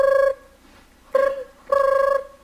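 An old-style telephone bell rings in three bursts, the first about a third of a second and the later two longer, clear and close with short pauses between them and no talking over it, in a comedy sketch with a phone kept in a car trunk.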